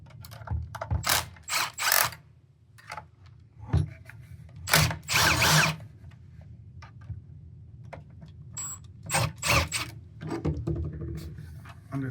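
Short, intermittent bursts of mechanical whirring and clicking come from a powered driver removing the left and right screws to take apart a Timbershot tool, with quiet pauses between each burst.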